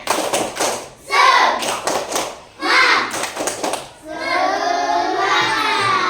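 A class of children at an Islamic religious lesson performs a rhythmic spirit clap, bursts of patterned clapping interleaved with their chanting voices in a classroom.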